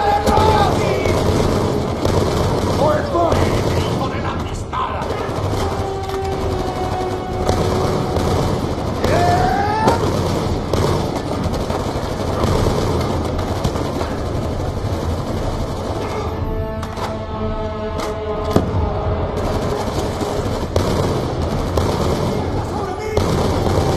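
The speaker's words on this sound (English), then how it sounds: "Gunshots came from inside." Gunfire in the video game Call of Duty Black Ops II rattles on continuously in dense bursts and booms, layered with other game sounds throughout.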